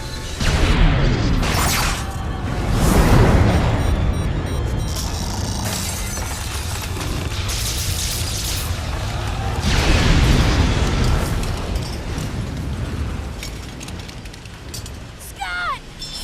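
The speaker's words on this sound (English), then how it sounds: "But uh-oh, the machine is about to blow" A machine blows up in the film Teacher's Pet, with loud booming blasts, shattering crashes and mechanical bursts filling a long, dense stretch of movie soundtrack, with voices mixed in.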